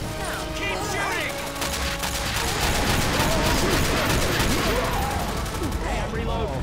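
Heavy sustained gunfire from several weapons in Left 4 Dead 2 during a Tank fight, a dense continuous barrage with zombie growls and speech mixed in.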